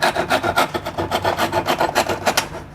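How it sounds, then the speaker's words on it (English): A hand saw cuts wood for a violin in very light, quick strokes, a rhythmic rasping back and forth, close and fairly loud with no talk. "Very light passes, no downward pressure, just letting the weight of the saw do the work."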